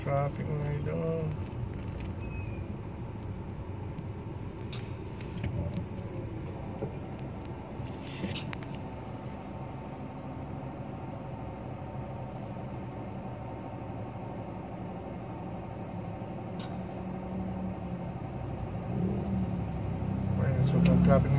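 Heavy road traffic at night, with a low, steady rumble of slow-moving cars and some wind noise on the microphone, heard from inside the flow, with someone talking over it throughout.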